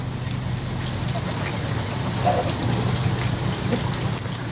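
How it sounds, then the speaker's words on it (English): Steady rain patters down on surfaces close by, a dense continuous hiss of drops with no voices over it. "Rain has calmed down a little bit."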